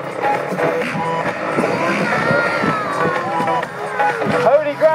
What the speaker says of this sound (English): He obviously had some noise from the crowd out there